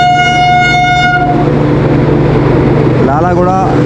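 Duronto Express arriving at a crowded platform with a Lalaguda-built locomotive, a loud roaring train rumble with a long sustained horn blast that fades, then a wavering second horn tone near the end.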